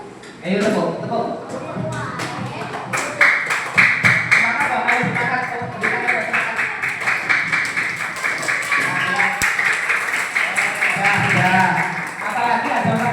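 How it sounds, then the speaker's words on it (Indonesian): A classroom of pupils clapping in a rapid, loud, sustained burst of many hands, sharp and close, with voices mixed in under the claps. "Ayo tepuk."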